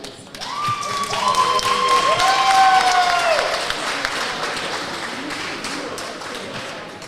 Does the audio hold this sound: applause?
yes